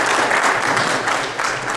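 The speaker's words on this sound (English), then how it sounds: "Please give a round of applause to our panelists here." Conference audience applauding the panelists at the close of a session, a dense, loud burst of many hands clapping together, sustained and near, with no voices over it.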